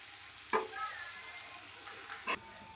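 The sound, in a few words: frying in oil on low flame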